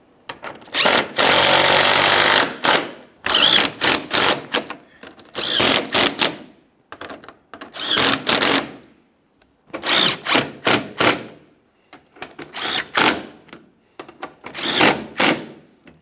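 A power tool snugs up bolts on a bumper bracket of a 2015-2020 Ford F-150, firing in repeated loud, close bursts of whirring and rattling, short pulses separated by brief silences.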